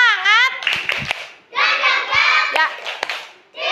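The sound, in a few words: pupils doing a rhythmic spirit clap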